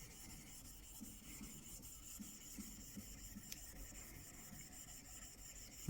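A blade rubbed back and forth on a waterstone clamped in a vise, a quiet, steady rasping scrape repeating in regular strokes with a faint knock at the end.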